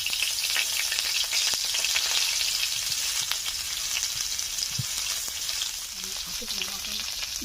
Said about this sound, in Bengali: মাছ ভাজার কিছুটা তেল রয়ে গেছে, এই তেলে ফুলকপিগুলোকে ভেজে নিচ্ছি